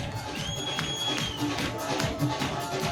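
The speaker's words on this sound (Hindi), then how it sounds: "आपकी तालियों की आवाज" An audience applauding at a Christian prophetic worship service: a dense, continuous wash of clapping and crowd noise at moderate distance, with no clear voice above it.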